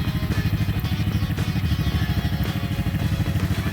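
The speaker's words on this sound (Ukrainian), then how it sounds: "повернути ключ у замку запалювання, натиснути на електростартер" A Forte Shark 125 children's quad bike engine fires up with the key and electric starter, then runs with a steady, loud, close pulsing throb throughout.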